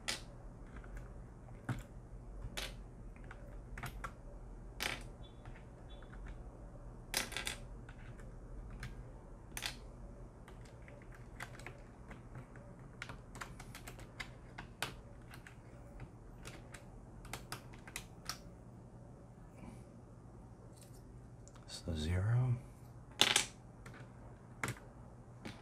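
Keycaps being replaced on a mechanical keyboard: a steady run of close, crisp plastic clicks, snaps and taps, irregular and fairly quiet, with a brief rustle of handling near the end and no talking.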